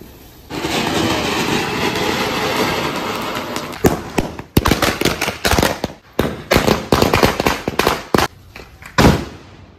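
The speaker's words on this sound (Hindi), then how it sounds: "ये लोग का पटाखा फोड़ना ही खत्म नहीं" Sparklers and firecrackers during a Diwali celebration: a steady crackling hiss first, then a rapid series of loud, sharp firecracker bangs at close range, some in dense clusters.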